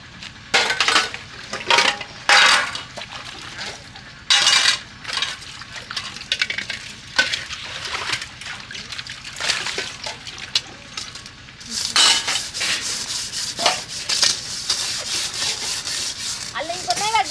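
Cooking pots and utensils being scrubbed and washed by hand in a village setting: repeated rough scouring strokes with intermittent metallic clinks and knocks, continuous and close.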